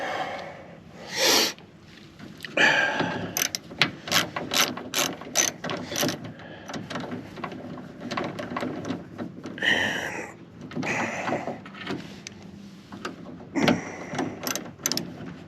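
A hand ratchet turns the 8mm bolts holding the window motors on a Fox Body, with close, crisp bursts of rapid clicking separated by short pauses and occasional clunks.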